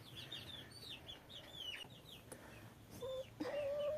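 Young chicks and grown chickens in a pen give off high, repeated peeping chirps throughout, joined late by a louder, drawn-out clucking call, all at moderate distance over a soft background hum.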